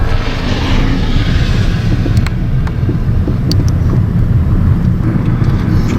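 A driving school car accelerates on a practice course, its low engine rumble and road noise steady and close, with wind buffeting the microphone and a few faint clicks over the top.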